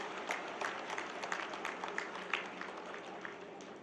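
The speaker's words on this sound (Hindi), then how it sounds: "जोरदार तालियों के साथ स्वागत होना चाहिए" A crowd applauding at an Indian political rally for street vendors, with a steady wash of clapping, moderately distant and fairly even, no voices standing out.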